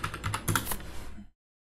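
Quick burst of keystrokes on a computer keyboard, about a second of close, crisp clicking with no voices.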